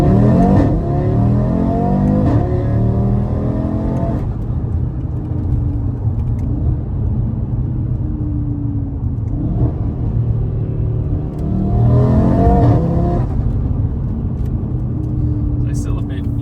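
Audi RS3 fitted with a custom downpipe and midpipe, heard from inside the closed cab with windows and sunroof shut: a loud, steady exhaust drone with rising revs in bursts, and a voice talking over it.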